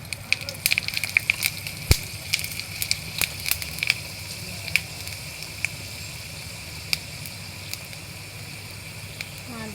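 Panch phoron spices crackle and sizzle in hot oil alongside a bay leaf and a dried red chilli, with sharp irregular pops over a steady frying hiss, close and moderately loud.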